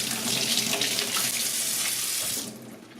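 Leeks rinsed under a running kitchen tap, a steady loud splash of water into the sink that tapers off near the end.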